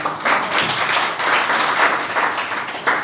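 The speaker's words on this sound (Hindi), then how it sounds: "सबसे पहले इसके लिए ताली हो जाए।" Steady audience clapping and applause at a Hindi poetry event celebrating India's 76th Independence Day, dense and sustained for a few seconds with small swells.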